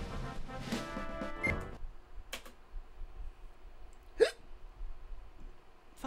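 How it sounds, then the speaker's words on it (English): A single sharp hiccup pops out near the middle of the clip, close and loud, amid faint background game music and quiet room noise while a Spyro speedrun is played. "Fucking hiccups."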